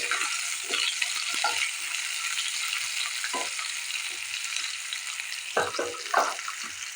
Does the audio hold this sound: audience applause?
no